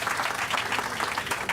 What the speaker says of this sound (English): there's a big round of applause for Ozzy